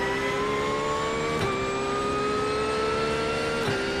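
A GT3 race car engine in the iRacing simulator, rejoining the track during a race, holds a steady high whine that climbs slowly in pitch, with two brief gear-shift dips along the way, loud and close, with no talking.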